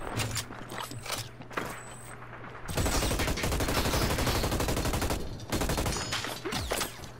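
Rapid automatic gunfire in the video game Hyper Scape, bursts of sharp shots in quick succession with mechanical clicks between volleys, loud and close.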